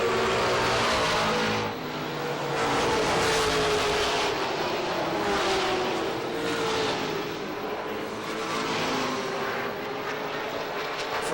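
Loud, continuous engine roar of pro stock cars racing on an oval track at Lee USA Speedway, with rising and falling passes layered over a steady drone.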